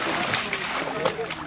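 Water splashes and sloshes as a dugout canoe crosses the Kaporou river, a brief close burst of paddling and lapping beneath a voice talking.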